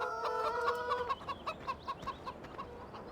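Chickens at a chicken coop in the video game Farming Simulator 17 cluck softly in a quick, steady series of short calls, alone and fairly quiet.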